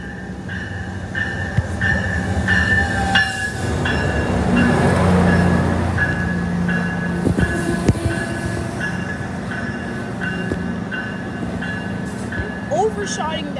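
An Amtrak Avelia Liberty Acela high-speed train rushes through New Carrollton station, a broad roaring swell building and fading over several seconds above a steady rail rumble, with faint voices in the background.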